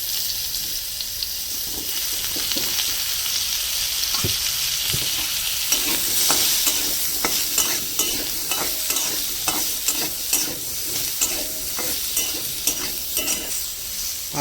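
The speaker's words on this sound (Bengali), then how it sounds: "এবার দিয়ে দেবো সেই টমেটোকপি, ওই একইভাবে করে ভেজে নেব।" Tomato and cauliflower frying in a pan in a village kitchen: a steady sizzle that grows busier halfway, with rapid spatula taps and scrapes toward the end.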